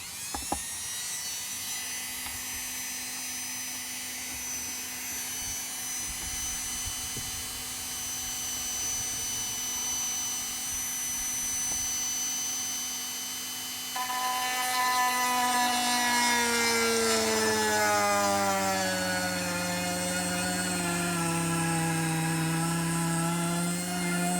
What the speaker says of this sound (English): Okay, so I'm drilling on this one on an angle.